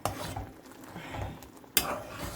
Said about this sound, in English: let's continue stirring, because we don't want it to start sticking to the bottom of the pot